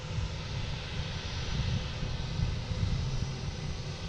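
An airliner takes off at Boston Logan, heard as a fairly distant, low, steady engine rumble that swells gently and never breaks.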